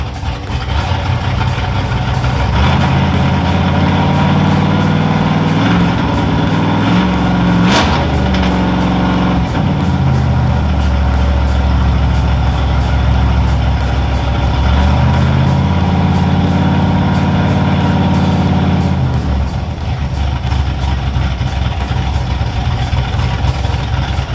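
A 1972 Ford Bronco engine fitted with FiTech EFI idles steadily and loudly throughout, its low rumble shifting pitch briefly as the throttle is nudged, with no talking.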